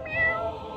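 A cat gives one clear, drawn-out meow close by, moderately loud and alone with no talking.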